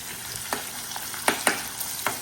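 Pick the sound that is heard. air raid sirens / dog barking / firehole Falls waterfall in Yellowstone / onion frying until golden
onion frying until golden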